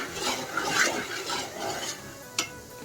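A spoon scrapes steadily around a pot of milk cream simmering down into ghee, a close, continuous rasping stir over a soft bubbling sizzle, ending in one sharper clink.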